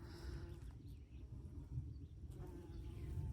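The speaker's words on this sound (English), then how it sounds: "It is covered in honeybees right here too at the moment." Honeybees buzzing around flowering plants in a zone 7 raised-bed vegetable garden, a soft continuous low drone nearby with faint rustling and no talking.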